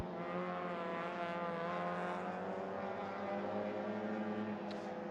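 A race car engine drones steadily at high revs at a race start, with a harmonic tone that rises slightly. It sounds moderately close and fairly constant for five seconds, with no talking.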